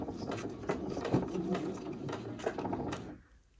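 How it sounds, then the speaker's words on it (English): A domestic sewing machine stitching a fabric seam runs steadily at a fairly loud level for about three seconds, with a few uneven knocks in its whirr, before it stops and goes quiet. "When you start sewing, you're going to just do 2 stitches"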